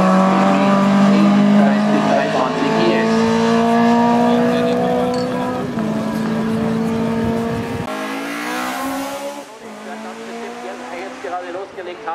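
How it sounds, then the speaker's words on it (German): A narrow, formerly Hessian race car in the St. Agatha hill climb, class E1 up to 2000 cc, accelerates hard through several rising gear-change sweeps, loud and close, then pulls away, with commentary heard throughout. "Da wird er noch einmal richtig Gas geben"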